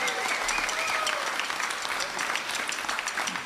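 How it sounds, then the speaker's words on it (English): Audience applause at a big band jazz show honoring Dr. Jack Stamp, a steady wash of many hands clapping that fills the room for several seconds, with a faint voice briefly audible beneath. "Let's give him a round of applause."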